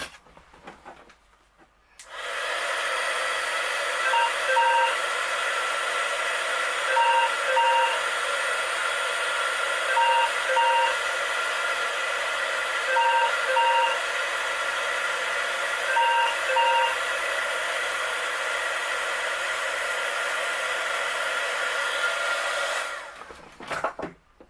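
A loud, steady whirring blast of a heat embossing tool runs for about twenty seconds, then cuts off; a faint repeating phone ring pulses underneath.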